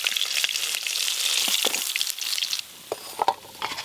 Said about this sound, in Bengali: এই দেখুন এই মাছগুলো কি সুন্দর ভাজা হচ্ছে